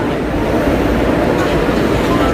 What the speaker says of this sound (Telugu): భీమవరం ట్రైన్ ఎక్కాము